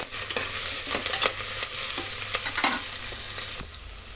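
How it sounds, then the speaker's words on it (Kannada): Curry leaves hiss and crackle in hot oil in a pan, a loud steady sizzle with stirring scrapes, the frying easing slightly near the end. "ಸ್ವಲ್ಪ ಕರಿಬೇವಿನ ಸೊಪ್ಪನ್ನು ಸೇರಿಸ್ತಾ ಇದ್ದೀನಿ."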